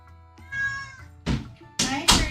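A house cat meows close by in a quiet indoor room, a short rising cry followed by a couple of sharper thumps or knocks, with no talking over it.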